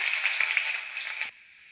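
Ginger hitting hot oil with mustard seeds in a pan for kovakka pickle, giving a steady bright hiss that cuts off abruptly after about a second, with no voices.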